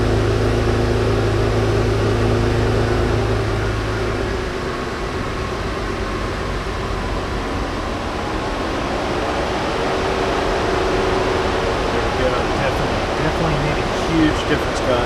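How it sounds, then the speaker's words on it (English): A Porsche Macan Turbo's cabin air fan blows at full speed, giving a steady, loud broadband rush of air that holds evenly for the whole stretch with no clear breaks. "Turn the air fan up all the way."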